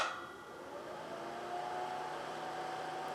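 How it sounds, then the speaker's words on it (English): A Mr Heater portable heater's electric fan runs steadily, a fairly loud continuous whir with a faint steady tone, close by and alone with no talking. "you have a fan up here that circulates some air"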